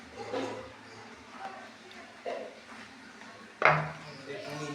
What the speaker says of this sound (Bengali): ঠিক এইভাবে দেখো আমি হাত দিয়ে মেখে নিচ্ছি।